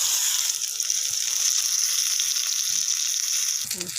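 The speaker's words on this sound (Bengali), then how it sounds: "এইভাবেই ভেজে নিতে হবে কুমড়ো ফুলের বড়া" Pumpkin flower fritters frying in hot oil, a continuous close bubbling sizzle with a faint scrape near the end.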